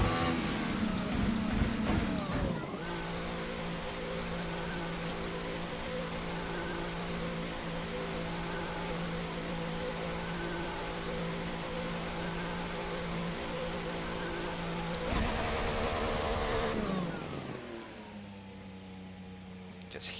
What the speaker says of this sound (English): Just hear the MGU and the turbo spool down as you get off the throttle